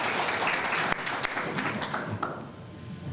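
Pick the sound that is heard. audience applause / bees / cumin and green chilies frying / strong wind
audience applause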